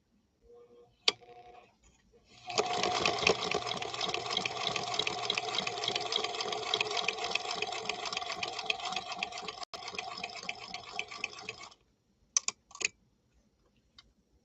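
A Centennial Featherweight sewing machine stitches a single layer of saddle grade leather with Italian thread. Fast steady mechanical chatter runs for about nine seconds, followed by a few separate clicks and knocks near the end.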